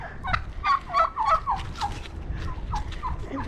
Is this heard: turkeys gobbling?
yes